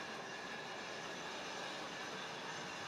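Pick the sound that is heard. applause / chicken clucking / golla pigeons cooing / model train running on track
model train running on track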